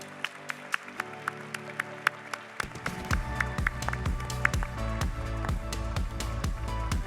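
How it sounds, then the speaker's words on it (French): Audience applause for two guests at the opening debate of the Paris 2020 entrepreneurs' fair, scattered claps at first, then swelling into dense, sustained clapping from a sizeable crowd. "Merci d'applaudir nos deux invités"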